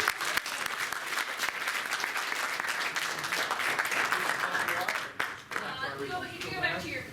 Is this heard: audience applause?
yes